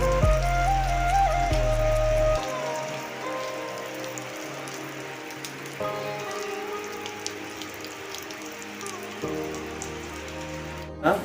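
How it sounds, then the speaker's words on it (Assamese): Steady rain falling outdoors on a spring festival day in Assam, a continuous close hiss with scattered drop patter and a few faint mechanical clicks, briefly under a voice at the start. "বৰষুণ দিছে বৰষুণ"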